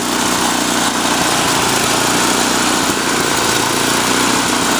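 An MTD 8HP snowblower engine running at idle with a slight surge, a loud, close, steady droning rumble throughout.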